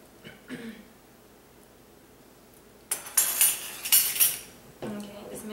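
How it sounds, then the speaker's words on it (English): A utensil stirs thick homemade ketchup in a pot, heard after a quiet stretch as a few close, scraping clinks of metal against the pan, then a short pause and another scrape. "just make sure you keep stirring it so it doesn't burn"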